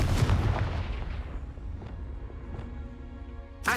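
A Confringo spell explodes in the video game Hogwarts Legacy with a loud, booming blast up close, followed by a rumbling decay and a few smaller crackling bursts.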